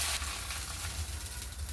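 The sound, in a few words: thalipeeth flatbread roasting on a griddle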